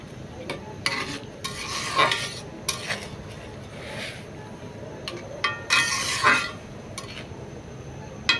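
Rui fish goes into a pan of bean seed curry. A low sizzle is broken by repeated bursts of utensil scraping and metallic clinks against the pot, close and moderately loud.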